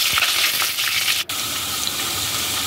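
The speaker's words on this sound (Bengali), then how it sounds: "এখন দিয়ে দিলাম রসুন বাটা" Garlic paste crackles and fries in a pan, a steady close sizzle with a brief sharp dropout partway through.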